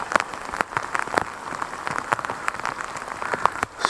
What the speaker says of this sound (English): this rain seems like it might just go on forever and ever and ever